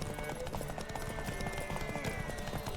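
Horse hooves clip-clop in The Witcher 3: Wild Hunt, a steady rhythmic trot sitting amid a busy game soundscape of music and ambience, with a faint whinny-like tone and some voice in the mix.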